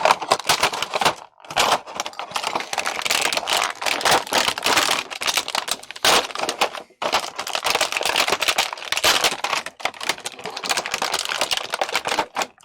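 Black Adam comic-version McFarlane Toys figure being pulled from its packaging by hand, a busy run of close crinkling, tearing and plastic rattling with brief pauses, no talking.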